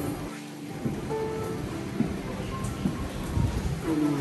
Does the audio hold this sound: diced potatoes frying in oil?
no